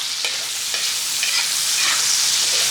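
Onions sizzle steadily in a hot pan for a home-cooked chicken curry, with scraping stir strokes over the continuous frying hiss and no talking.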